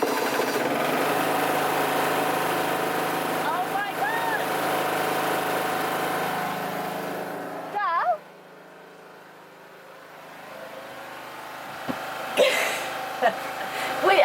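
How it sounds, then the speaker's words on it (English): Diesel generator engine on a sailing boat in the Ionian Sea, Greece, droning steadily and fairly loudly for about eight seconds before cutting off abruptly, followed by quieter scattered knocks and noises. "The generator's working."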